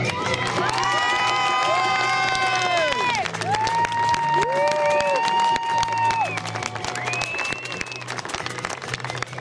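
Crowd at a club junior dressage prize-giving in Lamotte applauding and cheering the coaches, steady clapping with whoops and children's shouts alongside loud music.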